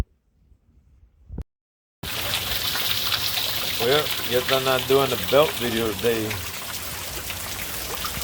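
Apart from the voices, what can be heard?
rain starting to fall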